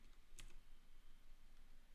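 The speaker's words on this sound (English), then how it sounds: "I'm typing with the wrong keyboard." A computer keyboard is typed on at a desk during a live coding session. Soft, faint keystrokes sit under a steady hiss of room noise, with one brighter click standing out.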